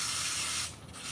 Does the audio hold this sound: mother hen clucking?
no